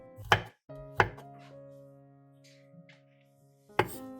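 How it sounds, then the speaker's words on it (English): Garlic being finely chopped with a knife on a cutting board: three sharp, close chops spaced apart, with a faint ringing tone lingering between strikes in an otherwise quiet room. "Next, chop finely."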